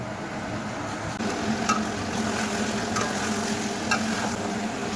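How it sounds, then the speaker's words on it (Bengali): Chicken sautéing with spices in a pan in a steady, close sizzle that runs the whole time, with a few faint stirring scrapes. "মাংসটা মশলার সাথে ভালো করে কষিয়ে নিচ্ছি"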